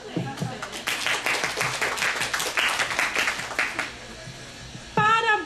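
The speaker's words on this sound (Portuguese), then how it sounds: "Uma salva de palmas para ela, gente." An audience claps in a brief burst of lively applause lasting about three seconds, fading out before a voice speaks at the end.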